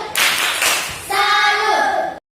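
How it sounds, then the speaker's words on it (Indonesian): Classroom group clapping for the apple team: a burst of clapping for about a second, then a brief gap and a second loud stretch with children's voices over it, ending abruptly. "kita beri tepuk salut untuk kelompok apel"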